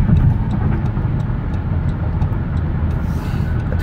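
A 2014 Dodge Caravan SE wheelchair mobility van cruising at about 70 mph on the highway, giving a steady, loud road and engine rumble with wind noise throughout and no talking.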